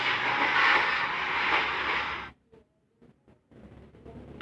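Interior rumble aboard the Gajayana luxury sleeper train between Purwokerto and Malang, a loud broadband roar that cuts off abruptly, leaving near-silence with faint knocks before a quieter hum returns.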